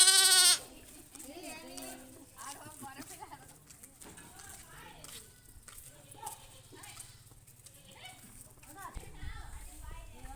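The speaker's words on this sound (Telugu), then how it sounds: "గొర్రెపిల్ల మేక పిల్ల నీకేది కావాలా" A lamb and a young goat bleat in short, wavering cries, one loud close call at the start and softer ones after, while people talk around them.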